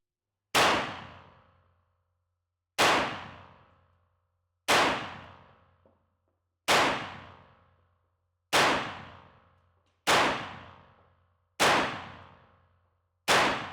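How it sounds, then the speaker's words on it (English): A 9mm pistol fitted with a compact carbine conversion kit fires eight loud, sharp shots at an outdoor range, spaced about two seconds apart, each ringing out in a short echoing tail, with no talk. "we're going to put 10 rounds downrange really quickly"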